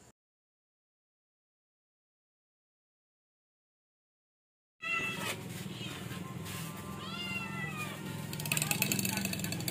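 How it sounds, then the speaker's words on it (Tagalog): After about five seconds of silence, cats break into insistent meowing at feeding time, with several overlapping, rising cries up close and a voice talking among them. "pakain tayo ng pusa"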